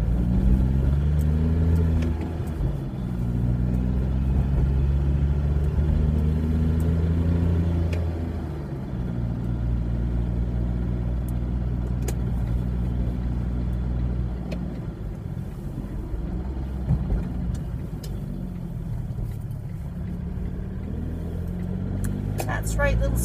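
Steady rumble of passing road traffic with car engines, continuous and fairly loud for over twenty seconds, with a person talking under it.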